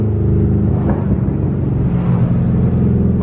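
Dodge Charger SRT8 V8 engine revving hard in first gear, a loud, continuous deep rumble held at high RPM with a steady throaty roar throughout.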